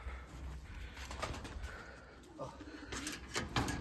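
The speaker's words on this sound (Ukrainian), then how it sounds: "Він теж тримає тут різних голубів, Будапешти, Чапаші, зеркальні." Soft coos of Budapest, mirror and Chapash pigeons murmur in a quiet enclosure, with faint rustling and a few brief bird calls near the end.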